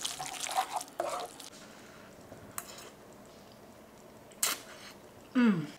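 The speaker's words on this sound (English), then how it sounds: "now we're just going to stir this to combine." Spaghetti with zucchini, pecorino and a splash of pasta water is stirred in a pot, giving soft wet squishes and clinks in a few separate bursts, quiet and close, with gaps between and no talking.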